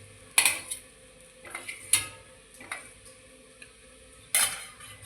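Fried bombil (Bombay duck), cooked dry, lifted from a pan onto a plate: a few sharp metal clinks and scrapes of a spatula against pan and plate, spaced irregularly, close and fairly clear over a faint background hum.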